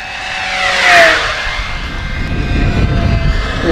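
An FMS Strega model airplane makes a loud low pass over the center of a runway, its motor whine swelling as it nears and then fading into a steady rushing drone.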